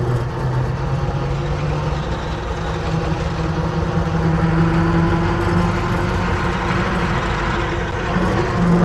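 The engine of a 1905 Mitchell D4 Roarabout with a large cone clutch and heavy flywheel runs with a steady, close low-pitched chug and a faint rising tone, holding even loudness throughout with no speech.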